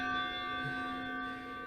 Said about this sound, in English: Oh, the bells tolling 1/4 past, 1/2 past, and 1/4 to it.